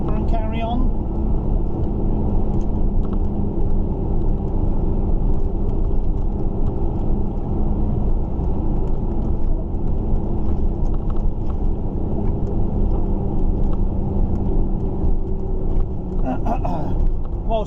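A loaded truck drives along the road with a continuous low engine rumble and road noise inside the cab, steady throughout, with brief faint clicks near the end.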